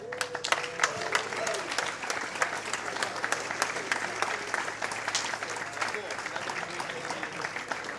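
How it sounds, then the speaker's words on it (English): Audience applause at Summer Games Done Quick 2016, a speedrun marathon event: steady, dense clapping from a large crowd that fills the whole stretch with scattered cheers and voices, a close and continuous wash. "Let's give these guys another round of applause."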